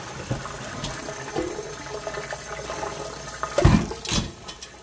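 Dirty water pours slowly out of a dutch oven, a soft uneven trickle and splash that swells into a louder gush near the end, close and without talk.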